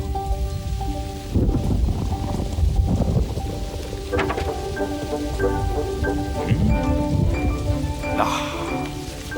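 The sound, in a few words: rain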